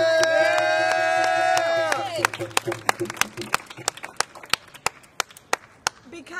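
At a gathering about police brutality in New Orleans, a sustained sung or shouted voice gives way to scattered, sharp claps from a crowd, growing sparser and more distinct toward the end.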